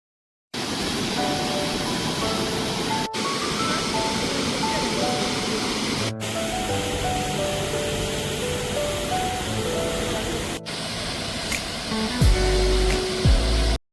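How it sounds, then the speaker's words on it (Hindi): A waterfall on a road trip from Utah to Oregon roars loudly and steadily, a dense wash of rushing water that never lets up, with a short break in the middle. "पानी की इतनी ज़ोर से आवाज़ आने लगी और ये बिल्कुल सामने पानी था, लाइक वाटरफॉल आई मीन"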